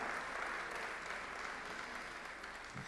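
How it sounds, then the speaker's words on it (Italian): A studio audience at a 2009 Rete 8 television season presentation applauds for Antonella Micolitti, an even, continuous wash of clapping from many hands at moderate-low level, with no voices heard. "farei ad Antonella veramente un grande applauso"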